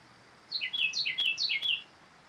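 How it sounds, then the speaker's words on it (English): A single bird sings in the background, a quick series of about six bright, high chirps in a row over a faint, quiet hiss. "hopefully the mic's picking up that bird that's singing in the background."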